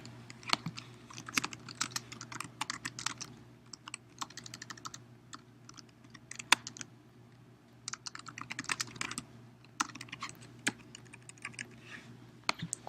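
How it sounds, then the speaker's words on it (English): Rapid clicking of keys on a computer keyboard, quiet and close, arriving in irregular bursts with brief pauses between runs over a faint steady hum. "this is where you would type in your text"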